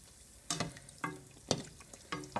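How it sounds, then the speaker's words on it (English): Float bake dough drops into hot oil in a few sharp bursts, each followed by a brief crackling sizzle, close and fairly quiet. "I let my bake fry"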